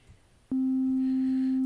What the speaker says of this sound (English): a sine wave oscillator on it, so we get a signal